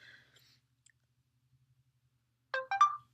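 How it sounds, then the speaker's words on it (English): A phone text message notification tone, a short two-part electronic chime sounding loud and close after near silence. "I just got a text message."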